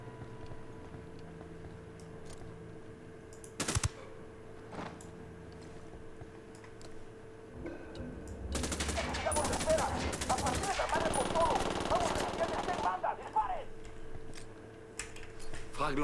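Automatic weapons fire in sustained bursts during a firefight in the shooter game Ghost Recon Wildlands, loud and dense in the middle section, with scattered shots and game voices around it.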